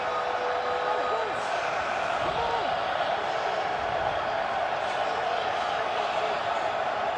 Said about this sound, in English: It's maybe the loudest this Battlehawk crowd has been all afternoon